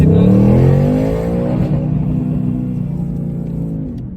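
A 2022 Ford Mustang Mach 1 V8 accelerates hard down a rough straightaway, heard from inside as a loud rising engine roar that swells through the gears, then eases into a steady rumble; a voice briefly speaks underneath.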